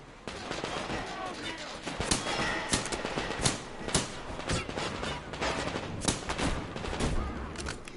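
Rapid bursts of gunfire from the shooter game Metro Exodus, loud, dense and close, with repeated sharp shot peaks over a constant din of battle; a voice is heard briefly.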